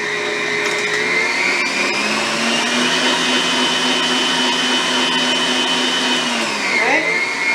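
Electric hand mixer whirring steadily as it beats cream cheese, sugar and egg into a cheesecake batter, a loud continuous motor drone that slows and drops in pitch near the end.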